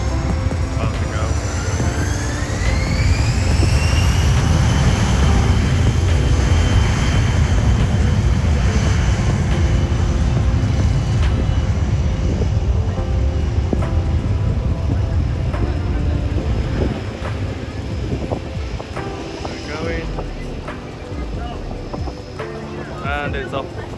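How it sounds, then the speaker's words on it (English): A small private jet takes off near a busy beach on St Maarten, with a loud, close, sustained engine roar and a rising turbine whine that hold for about twenty seconds before easing slightly. "I think that one's just getting ready to take off on that side"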